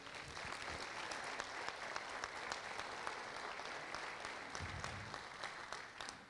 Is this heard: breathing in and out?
no